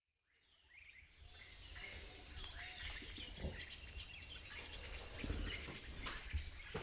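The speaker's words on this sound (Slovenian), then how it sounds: "Mislim, ptiče se sliši, ene druge, kot pri nas." Birds call and chirp in the early morning somewhere in Africa, scattered bright calls over a soft steady outdoor ambience with faint insect hum.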